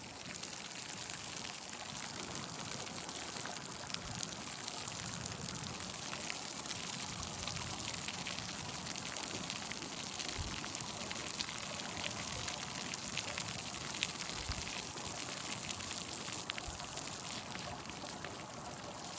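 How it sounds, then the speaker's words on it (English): Water fountain jets splash steadily beside a central drain, making a constant broadband rush of falling water with no breaks, fairly close and moderately quiet. "So now it's just the center little like fountain things in the middle here by the drain in the middle"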